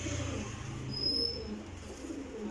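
Desi pigeons give low, soft coos close by, a muffled throaty murmur repeating under faint background noise, with a brief thin high tone partway through.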